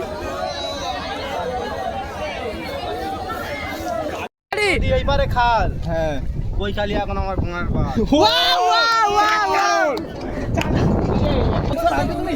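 A dense crowd chatters at Koikhali, a busy babble of many voices close around, with one nearby person talking over the hubbub and a brief dropout partway through.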